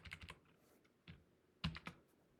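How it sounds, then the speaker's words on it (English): Fingers type on a computer keyboard while entering a spreadsheet formula, two quick bursts of clicky keystrokes separated by a short pause, close and fairly quiet. "Now notice I'm typing up here to make my life a little easier."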